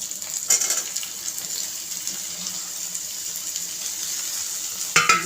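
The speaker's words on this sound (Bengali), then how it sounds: "এখন এর মধ্যে কেটে রাখা পেঁয়াজ আর কাঁচা লঙ্কাটা দিয়ে" Chopped onion and green chili sizzle with frying potatoes in a pan, a steady bright hiss with a louder burst as they hit the oil, close and without talk.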